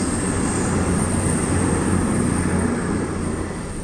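A train rolls steadily past a level crossing in Southampton, on the line towards Southampton Airport Parkway, with a continuous rumble and a thin high whine holding level throughout before easing slightly at the end.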